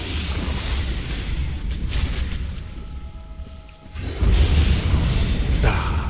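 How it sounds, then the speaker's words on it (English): Deep booming explosions and rumbling fire blasts in a Dark Souls boss fight, continuous and loud with a heavier burst of rumble midway. "Ah, big old explosions."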